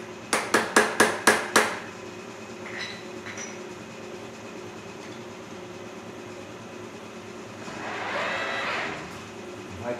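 Six quick, loud hammer blows ring out in a tight rhythm as someone tries to break a key lock cylinder on a homemade mini tractor, followed by quieter workshop noise.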